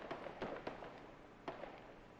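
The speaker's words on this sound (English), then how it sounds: "you can hear gunfire going on in the background" Scattered gunshot-like pops echo at a distance in Arma 3, a few sharp cracks spread irregularly over a steady low background rumble.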